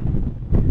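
Low, rumbling wind buffets the microphone in gusts on a golf course, dull and blustery, with no other sounds standing out.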